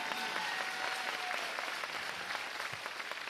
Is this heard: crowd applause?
yes